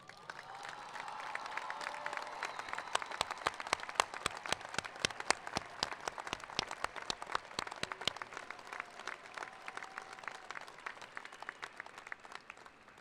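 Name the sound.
audience applause at college commencement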